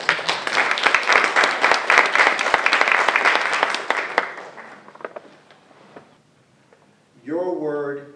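Audience applause fills a school room at a spelling bee, loud and dense, then thins out into scattered claps and fades before a voice begins speaking.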